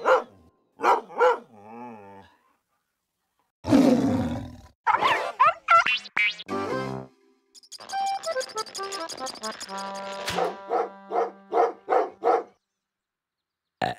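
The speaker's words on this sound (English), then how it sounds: "Come on, dog. Bark. Let's hear your vicious growl." A cartoon dog's series of barks, growls and roaring snarls up close, mixed with short playful tones and sound effects in a lively, uneven rhythm.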